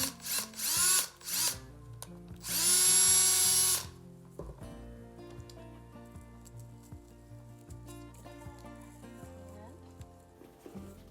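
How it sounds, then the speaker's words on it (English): A power drill whirs in short bursts as it drills into a pumpkin, then one longer high-pitched run, followed by quieter handling sounds and a low background hum. "So we'll drill this one."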